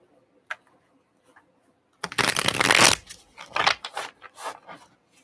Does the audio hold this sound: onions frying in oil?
no